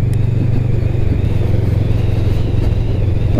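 A 2020 Honda CMX 500 Rebel custom motorcycle engine runs with a loud, steady low throb, heard close and alone without talk.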